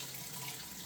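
Tap water runs in a sink as chickpeas are rinsed, a brief steady splashing hiss heard close up with no talking.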